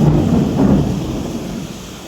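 Heavy monsoon rain pours down over a residential colony while deep thunder rumbles loudly at the start and slowly fades under the steady roar of the downpour.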